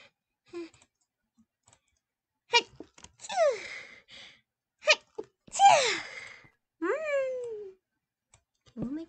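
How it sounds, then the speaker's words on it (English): A person sneezes during a Minecraft session: a few sharp, separate bursts spread across a mostly quiet stretch, close and fairly loud, each ending in a falling squeaky tail. "I have to sneeze."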